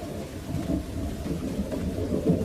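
Cartoon rain falling at night, a steady broadband wash with low rumbling beneath like distant thunder, continuous and moderately loud with no voices.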